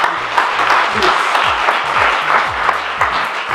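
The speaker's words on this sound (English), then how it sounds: "Please, can we clap hands for them, please?" An audience at a graduation ceremony clapping together in a steady, dense round of applause, loud and close, with a faint murmur of voices underneath.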